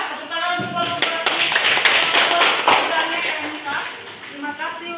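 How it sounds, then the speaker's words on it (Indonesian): Students in a classroom clap for a group, with bursts of close, uneven hand claps mixed with chatter and voices over the top, louder in the middle and thinning out toward the end. "Sudah, tepuk tangan untuk kelompok 2"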